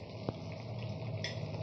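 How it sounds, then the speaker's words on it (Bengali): Cumin seeds tempering in hot oil left from frying rui fish for a masala curry, giving a steady, soft sizzle and crackle close by. "মা প্রথমের মধ্যে জিরে ফোড়ন দিচ্ছে"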